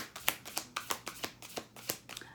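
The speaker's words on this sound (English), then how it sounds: "I'm going to pull 1 animal spirit card for the overall reading." Animal spirit tarot cards are handled and pulled, making a run of close, crisp paper flicks and soft slaps in an uneven rhythm, quiet and without talk.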